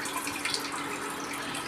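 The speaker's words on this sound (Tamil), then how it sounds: "தண்ணியெல்லாம் நல்லா சுத்தமாக வடிகட்டிடலாம்." Water drains off soaked pearl millet in a steady, close splashing pour that runs unbroken throughout.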